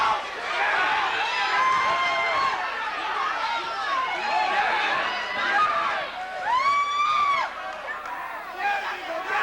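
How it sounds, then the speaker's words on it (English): Boxing fans in the audience at a pro fight between Steve Hindi and Leo Mancillas, a steady crowd roar of chatter, shouts and whoops, with a close commentator voice talking over it. "Hindi's fans trying to cheer him on, but Leo has earned a couple of fans in the audience himself."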